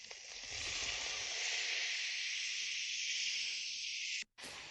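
Prawns fry in butter and garlic in a pan, a steady close sizzle and hiss that runs continuously before cutting out briefly near the end.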